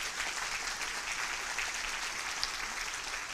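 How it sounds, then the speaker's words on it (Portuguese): Church congregation applauding during a service, a continuous crisp patter of many hands clapping, fairly faint and even throughout, with no voices over it. "Vamos dar uma salva de palmas ao Senhor pela vida do pastor Luciano."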